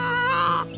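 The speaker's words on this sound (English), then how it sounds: "She is one of our oldest hens." An elderly, visibly unwell hen on a mountain homestead gives one short, close, tonal cluck lasting under a second.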